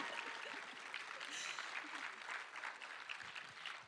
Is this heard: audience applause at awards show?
yes